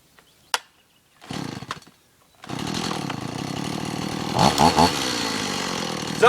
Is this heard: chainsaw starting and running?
yes